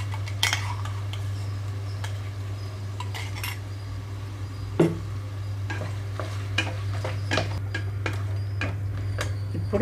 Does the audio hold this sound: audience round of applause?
no